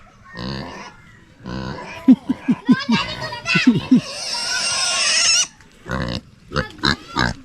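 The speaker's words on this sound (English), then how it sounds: "Yeah, we found another pig." A pig on a leash in the Philippines grunts and snorts in short, loud bursts close by, a quick run of rhythmic grunts in the middle, with voices nearby.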